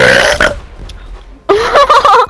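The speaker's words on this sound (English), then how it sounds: "can you burp again?" A man lets out two loud, deep burps, a short one followed by a longer rumbling one after a brief quiet gap, close up with nothing else masking them.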